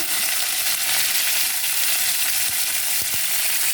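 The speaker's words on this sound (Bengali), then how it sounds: "তেল গরম হয়ে গেছে কাঁকড়াগুলো দিয়ে দেবো" Loud, constant sizzling of crabs frying in hot oil, a dense crackling hiss close by with a few soft knocks.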